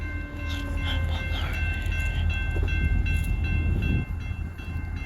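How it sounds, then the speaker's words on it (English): A CSX local freight led by an SD locomotive rolls slowly past at close range, a loud steady engine roar and rumble with tonal whine and some horn-like tones. "Yeah, he's roaring because I can hear him."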